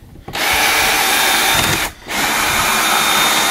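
A power drill whines steadily as it drives a screw into wood while a smart lock is installed in an old cabin, loud and close, with one brief pause before it runs again.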